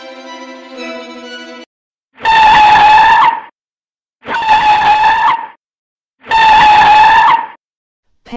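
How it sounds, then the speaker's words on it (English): Car brakes screeching as a story sound effect, three long, loud tonal squeals separated by brief silences, preceded by a softer musical tone. "a loud screech of the car's brakes"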